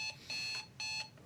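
An electronic device emits repeated high-pitched beeps in an even rhythm, three bursts in quick succession, fairly faint, with no talk over them.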